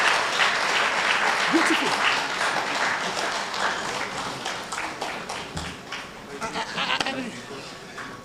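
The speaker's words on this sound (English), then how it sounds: "Again, a round of applause for Mr. Olusegun Adeniyi." Audience applauding a speaker at a live-streamed event, a steady wash of clapping across the whole stretch that thins slightly toward the end, with a voice speaking over it briefly.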